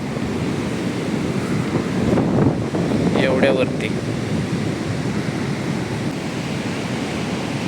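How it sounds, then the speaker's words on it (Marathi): Strong sea waves surge and crash at Ganpatipule, a steady roaring wash of surf mixed with wind noise throughout, swelling briefly near the middle where a voice speaks a word. "हे बघा लाटा किती जोरदार असतात"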